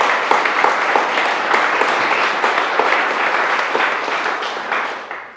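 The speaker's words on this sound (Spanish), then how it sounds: "Denle un aplauso a nuestro Señor." A church congregation at an evangelical service claps steadily for about five seconds, a dense, even wash of many hands that fades slightly toward the end.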